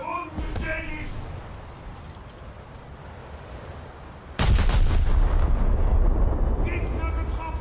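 Naval guns firing in World of Warships, aboard the battleship Scharnhorst: one loud, sudden broadband blast partway through that rolls on under the continuous roar of sea and wind, with speech heard earlier.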